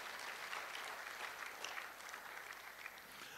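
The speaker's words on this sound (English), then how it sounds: "So let's clap for them in advance." A medical college's annual scientific meeting audience claps in a continuous, dense wash of hands, fairly faint and distant, sustained for a few seconds without speech.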